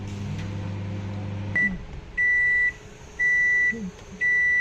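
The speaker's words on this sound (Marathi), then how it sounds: "एंड म्हणून बजर झालेला आहे, आपला ओव्हन प्रीहीट झालेला आहे" An electric oven hums as it runs, then falls quiet and sounds three long, evenly spaced electronic beeps to signal that preheating is done.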